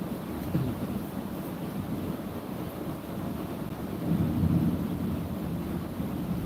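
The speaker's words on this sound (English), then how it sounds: "It's raining. It's raining really hard right now." Heavy rain pours steadily during an evening in Asia, a dense, continuous hiss with a deep thunder rumble swelling beneath it partway through.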